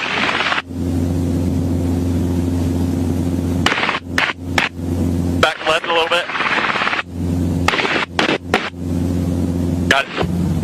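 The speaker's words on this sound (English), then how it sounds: "I'm going to put the nose of the helicopter right down here in the bushes" Helicopter engine and rotor drone, steady and loud while hovering low over treetops and bushes, broken by gaps and bursts as people talk over it.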